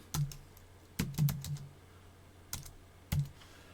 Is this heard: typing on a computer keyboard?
yes